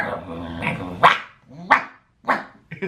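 A dog growls low, then lets out three or four sharp, close barks spaced about half a second apart, loud against brief silences.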